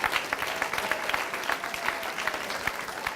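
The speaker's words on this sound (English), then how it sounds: "Give her a great round of applause." An audience applauds a teacher of 47 years at a public announcement event: steady, dense clapping that fills the whole stretch at an even level, with no speech over it.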